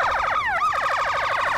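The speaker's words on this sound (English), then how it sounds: "As sirens blare through southwest Memphis" Police sirens blare in southwest Memphis with a loud, continuous wail. Repeated rising and falling sweeps overlap a second siren's steady cycling, close and unbroken throughout.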